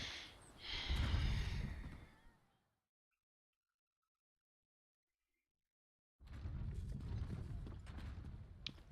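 Creaking, clopping hoofbeats of a mounted horse in a fantasy role-playing game, a faint rhythmic clatter with mechanical creaks, broken by a long silent gap before resuming.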